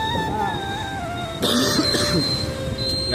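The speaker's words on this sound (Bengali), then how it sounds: "কাশি হয়েছে আমার খুব মারাত্মক" A person with a severe cough gives a harsh, close cough burst partway through, over a steady background with a high whining tone.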